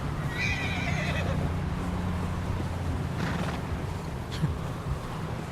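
A horse neighs loudly up close in the video game Red Dead Redemption 2, then steady hoofbeats continue over a snowy outdoor ambience.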